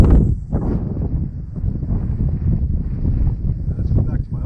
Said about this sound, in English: Wind had picked up